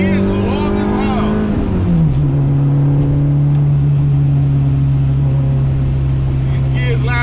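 A Honda Civic EG engine pulls through long first and second gears, a loud steady drone that drops in pitch at a shift and then holds, heard from inside the car beneath someone talking.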